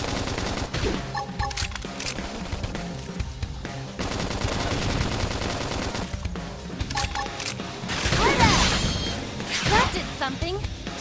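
Rapid bursts of gunfire clatter through a Xenoblade Chronicles X battle, mixed with combat effects and game music, while character voices call out over the action.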